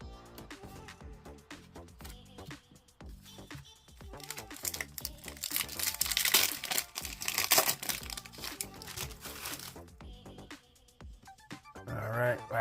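Foil wrapper of a Magic: The Gathering Marvel Spider-Man booster pack being torn and crinkled open, with crackling crumpling rising and falling near the microphone under background music and a voice.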